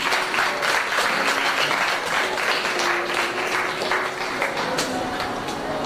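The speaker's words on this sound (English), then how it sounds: "Please let your clap reverberate the hall." An audience in a hall applauds at a school debate competition, a full, continuous burst of clapping from a large crowd that stays loud throughout, with a faint voice and a sustained tone beneath it.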